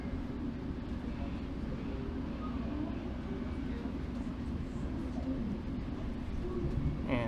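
A continuous low rumble inside a GO Transit commuter train between Toronto and Brampton rolls along steadily, with a faint muffled clatter and hum and no clear voices.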